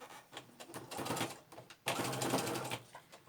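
Sewing machine back stitching a rucksack seam, two bursts of close, rapid mechanical stitching separated by a short pause.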